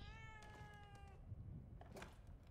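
A cat meows once, in a clear, drawn-out and fairly faint call inside the video game The Evil Within 2, over a low ambient hum.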